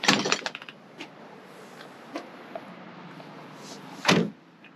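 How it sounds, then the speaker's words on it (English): A car door on a 1970 Chevrolet Nova shuts with a solid, muffled thud near the end, after a few quicker clicks and knocks at the start, with quiet background hiss between. "And both doors close extremely well."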